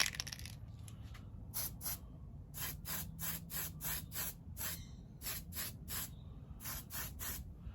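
Short bursts from a spray can lay light coats of Tamiya TS45 pearl white on the firewall of a Revell 1937 Ford pickup model kit, about a dozen close hissing puffs in a steady rhythm with brief pauses.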